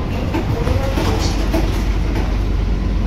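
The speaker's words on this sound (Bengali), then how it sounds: "আমাদের ট্রেন কিন্তু দমদম জংশনে প্রবেশ করছে" Sealdah–Ranaghat AC local train running toward Dum Dum Junction, a loud steady rumble with faint rhythmic clatter heard from inside the carriage, continuous throughout.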